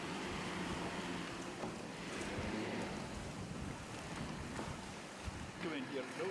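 Wind buffets the microphone as a boat engine rumbles over lapping waves and surf while the boat reverses stern first into a narrow sea cave off Swona, with a voice speaking briefly.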